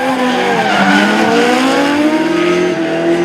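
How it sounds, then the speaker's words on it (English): Drift cars, a turbocharged RB25 Nissan and a V8 Commodore, slide at a D1NZ drifting round in Christchurch, with loud continuous tire squeal over roaring engines, close and sustained. "Fanga getting it all wrong in the chase, putting the turbocharged RB25 Nissan into the final"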